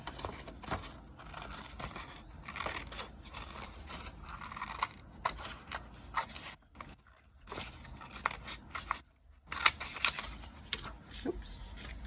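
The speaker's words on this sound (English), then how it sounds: "So I'll just take some scissors and" Scissors snip through paper in short, irregular cuts, close and fairly quiet, with rustling between snips.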